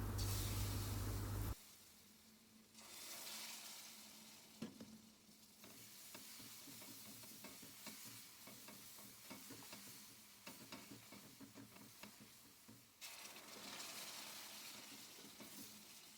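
Syrup is poured bit by bit into flour halva as it is stirred and roasted, making a hissing spatter over a soft, steady scraping that swells and eases through the clip.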